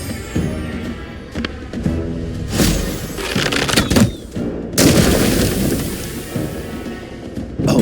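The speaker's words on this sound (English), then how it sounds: "The barrel has exploded, releasing a cloud of poison gas over the surrounding area." A shot poison barrel explodes in the Demeo video game, giving loud booming blasts and crashing debris over a dense, continuous layer of game sound and music.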